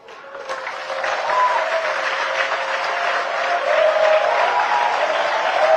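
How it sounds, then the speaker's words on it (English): A large audience bursts into applause that swells within a second and stays loud and continuous, a thick roar of many hands with some voices and cheering mixed through it. "If you want to stand up and have the applause, do that."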